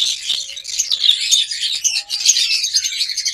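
A green-wing and green opaline lovebird pair chirping and squawking in rapid, high, busy bursts, close and continuous with no talking over them.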